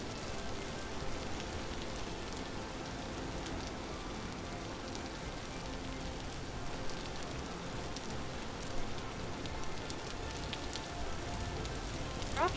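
Steady rain in the video game Vintage Story hisses and patters continuously, an even wash of falling drops with no voices and no break in intensity.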